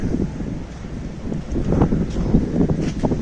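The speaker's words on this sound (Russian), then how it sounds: "Ветер начинается." Wind picks up as a thunderstorm builds, a broad rushing gust with rustling that grows stronger over a few seconds, with no talk.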